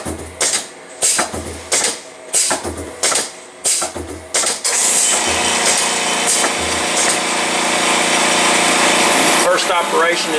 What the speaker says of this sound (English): Alright, here we go, cycle start. We're going to move to our tool change position and change our tool.